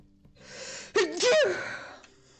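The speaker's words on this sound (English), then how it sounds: "I'm even virtually cleaning something I'm sneezing." A single sharp sneeze bursts out after a faint intake of breath, close and fairly loud, trailing off into quiet room noise, from someone cleaning up while flipping a house.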